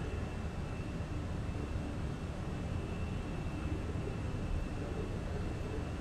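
An airliner takes off in a flight simulator, a steady loud broadband engine roar with a faint constant whine held evenly throughout.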